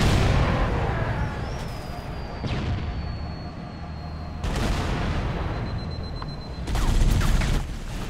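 Bursts of rapid gunfire and blasts from a Halo: Combat Evolved battle, loud clustered volleys separated by quieter stretches of rumbling combat ambience.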